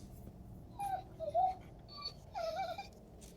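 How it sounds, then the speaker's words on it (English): A dog whimpers in a few high, wavering whines separated by short pauses, soft and somewhat distant over a low background hum, with no talking. "you hear a dog whimpering"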